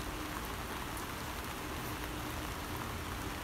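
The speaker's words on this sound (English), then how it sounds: "it's raining very intensely right now" Heavy rain pours down steadily, a dense, continuous hiss of drops drumming on surfaces with no pauses or voices.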